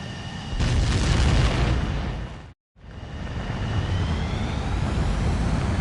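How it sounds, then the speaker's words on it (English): Fighter jet takeoff in Ace Combat 7, a loud roaring blast building quickly, broken by a brief dead cut, then the broad jet roar returning and holding steady. "begin takeoff sequence. You're cleared for launch."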